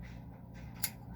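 A single sharp snip of scissors cutting thread during kilt making, close and crisp against a quiet room background.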